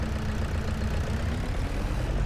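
A tractor engine in the Farming Simulator 25 video game runs at a steady, dense, low drone, with a loud and continuous rumble and no talk over it.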